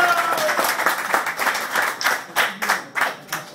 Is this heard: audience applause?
yes